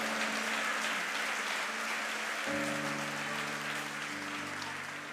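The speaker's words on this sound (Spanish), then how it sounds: "Alguien puede darle más fuerte ese aplauso al Señor." Church congregation applauding the Lord: a dense, steady wash of clapping throughout, with a sustained musical tone joining underneath midway.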